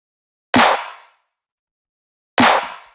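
Two separate electronic snare hits with a layered clap, each a sharp loud broadband crack trailing into a short reverb tail, about two seconds apart, with silence between them.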